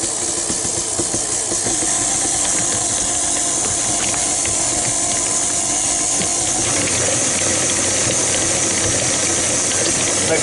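An electric mixer runs steadily on low speed through banana nut bread batter, making a loud, continuous whirring and ratcheting drone with a slight change in tone partway through, with no voices.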